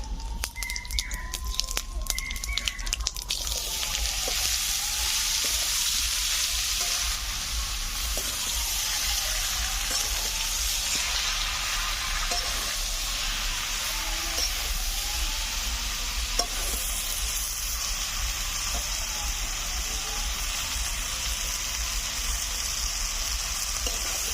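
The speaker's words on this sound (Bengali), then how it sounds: "জিরে আর তেজপাতা দিয়ে তেলের মধ্যে লাউটাকে নিয়ে ভালো করে নাড়াচাড়া করে নিতে হবে" Bottle gourd stir-fried in oil with cumin and bay leaf sizzles loudly and continuously at close range for a long stretch, with faint stirring movements running underneath.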